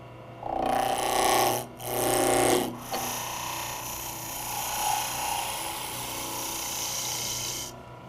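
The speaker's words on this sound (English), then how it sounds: "I can finish turning the blank into a cylinder using my spindle roughing gouge" A wood lathe spins a blank while a spindle roughing gouge cuts it toward a cylinder, giving a loud, continuous buzzing whir with brief dips early on and then a steady, even grind.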